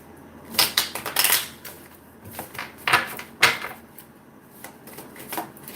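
Tarot cards shuffled by hand, a run of soft papery riffles and slaps in irregular bursts, some sharper than others, close by with no talking.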